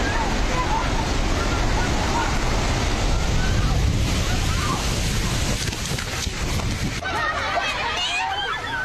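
A flash flood in Nepal, a torrent surging down from the Tibet side, pours out as a loud, continuous roaring rush of water that fills the whole stretch, with a turbulent churning texture throughout.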